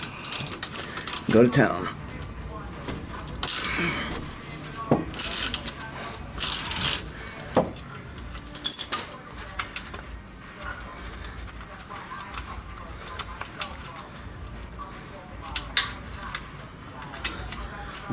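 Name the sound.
ratchet with 13mm socket loosening BMW E39 sway bar end link bolt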